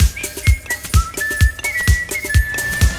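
A whistled tune from the video game Donkey Kong Bananza plays as a clear, wandering melody over a bouncy beat with regular low thumps, loud and upfront.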